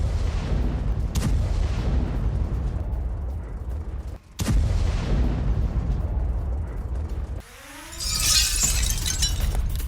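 Artillery fire strikes Russian military bases in a Ukrainian attack, with two heavy booming blasts a few seconds apart, each trailing a long rumbling decay, followed by a hissing, whooshing burst near the end.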